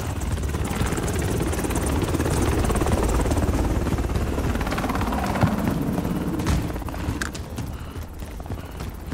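Helicopter in a military shooter video game, its rotor chopping loudly and steadily throughout with layered battle noise, no voices over it.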